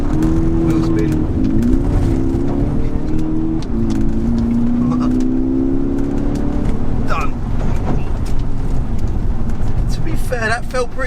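A diesel VW Golf GTD pulling from standstill toward 60 mph, a loud close engine drone climbing in pitch through the gears with a brief dip between, while people talk over it.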